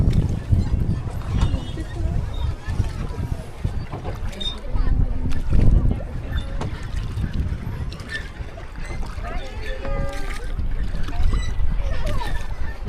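Boat ride on a lake at Mahabaleshwar, with a steady low engine rumble and water noise throughout, occasional splashes, and children and adults talking over it.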